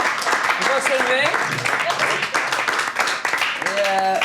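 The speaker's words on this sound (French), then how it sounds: "Maxime Chagnon, on peut l'applaudir, mesdames et messieurs" Studio audience applause on a Québec comedy talk show, brisk clapping heard under a host's voice and bits of cheering, loud and near.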